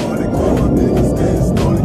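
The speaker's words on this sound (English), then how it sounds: "Man, I'm tired of these planes" An airplane passes overhead with a loud, steady, broadband roar that fills the whole short stretch, close and unbroken.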